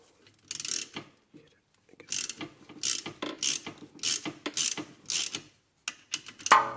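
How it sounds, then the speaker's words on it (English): A puller draws the pinion flange off a Jeep Liberty rear axle, producing bursts of close ratcheting clicks separated by short pauses, with no talking. "A puller is used to remove the pinion flange"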